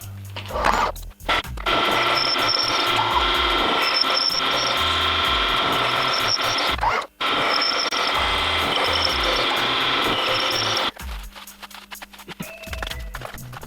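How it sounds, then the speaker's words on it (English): A power drill whines steadily for several seconds while drilling holes in metal plate, pausing briefly once, then stops, leaving quieter handling noise behind. "Doesn't seem to be the greatest grind in the world on this drill, but it's drilling"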